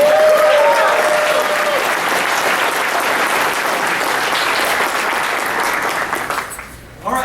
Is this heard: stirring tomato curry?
no